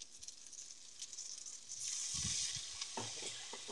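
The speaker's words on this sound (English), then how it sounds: "You hear that sizzling?" Burger patty and cheese frying in a hot pan, a steady crackling sizzle that swells louder partway through with a few small clatters, close-up and fairly quiet, with no one talking.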